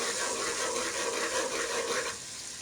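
Ghee and butter being stirred together in a cooking pot, giving a steady, close broadband sizzle and hiss that runs throughout and eases slightly near the end, with no talking.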